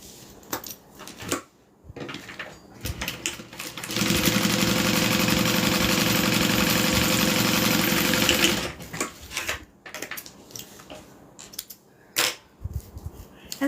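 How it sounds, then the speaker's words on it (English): A sewing machine top stitching along the interior fabric of layered material runs in a loud, steady whir for about four seconds, framed by quieter handling clicks and taps before and after. "we're going to open it up and we're going to do a top stitch along the interior fabric"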